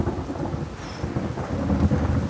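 A thunderstorm with heavy rain: dense, steady rainfall hisses throughout, with low rolling rumbles of thunder rising and falling beneath it, fairly close and continuous with no voices.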